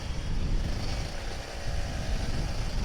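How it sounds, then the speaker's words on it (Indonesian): A steady, buzzy two-stroke engine drone from an old Kawasaki Ninja RR 150 motorcycle runs throughout, close and fairly loud, with a raspy rumbling tone. "pakai motor 2 tak lagi, asik kan lah suaranya"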